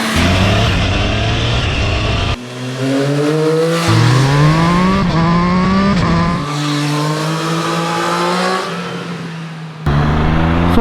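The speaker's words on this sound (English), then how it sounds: "So we are now riding the Triumph Street Triple RS" A 2024 Triumph Street Triple 765 RS motorcycle with a 765cc inline-three engine rides hard, its loud engine rising and falling in pitch through repeated gear changes and cuts, close and continuous with no talk.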